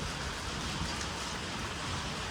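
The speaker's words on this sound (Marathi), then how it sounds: "गारा नाही पडत फक्त पाऊस पडतो" Steady rain pours down in a dense, even hiss with soft pattering on surfaces, continuous and fairly close, with no voices; first rain of the season in a village, without hail.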